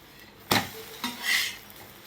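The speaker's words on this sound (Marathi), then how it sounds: "आता हे पलटी करायचं आहे बघा" A bread omelette flipped in a pan on a gas stove: a sharp metallic clatter of the pan, a second lighter knock, then a brief sizzling rush as the omelette lands.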